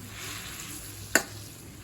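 Chicken 65 pieces sizzle in a boiling pan while being stirred, a soft steady bubbling hiss with one brief sharp clink of the utensil partway through.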